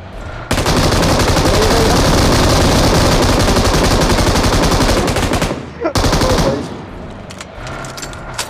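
M249 light machine gun fires in the mobile battle royale game BGMI, a loud sustained automatic burst lasting several seconds, a brief pause, then another burst before trailing off.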